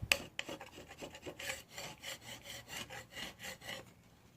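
Plastic scraper scraping old finish off teak boat woodwork, quick repeated rasping strokes in a steady back-and-forth rhythm, close and quiet.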